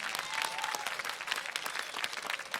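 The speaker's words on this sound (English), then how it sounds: "give them a round of applause, please." An audience at the Paseo Academy of Performing Arts 2021 graduation ceremony keeps up steady, dense clapping throughout, heard from within the crowd.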